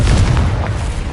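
A Confringo blasting spell goes off in the Hogwarts Legacy video game as a loud, close, rumbling explosion that fills the short moment with dense low boom and no voices.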